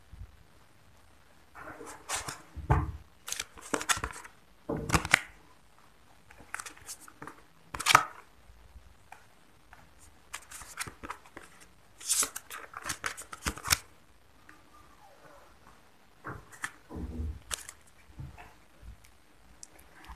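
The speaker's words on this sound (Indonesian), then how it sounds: "Untuk konfirmasi kartunya kita ambil beberapa kartu lagi." Tarot cards drawn and shuffled during a reading, heard as quiet, close, irregular papery flicks and slaps in scattered bursts, with no voice over them.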